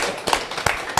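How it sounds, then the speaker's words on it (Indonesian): A few rhythmic hand claps from a studio audience on a TV talk show, regular beats over a steady background wash. "Kita beri tepuk tangan dong buat Bu Ada"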